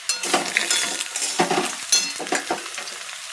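Ridge gourd being added to potatoes frying in a pan, crackling sizzle with a series of irregular clatters and scrapes of a spatula against metal, close and lively, no talking.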